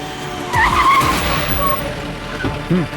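A car pulls over to the roadside with a short tire skid and squeal, loud and close, followed by a faint voice near the end.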